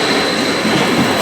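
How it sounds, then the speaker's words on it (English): A railjet train bound for Vienna stands at the station platform, giving a steady, loud broadband rumble and hiss of rail noise with no talk over it. "There's my train,"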